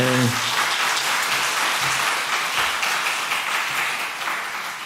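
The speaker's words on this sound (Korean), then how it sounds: "격려 박수 한번 해주세요." A church congregation applauds at the close of a Sunday afternoon service, a dense sustained clapping that fades slightly, with a brief voice at the start.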